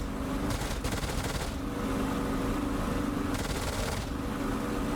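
An aircraft's machine guns fire during a dogfight in the DCS World flight simulator, two rapid sustained bursts rattling loudly over a constant roaring engine drone.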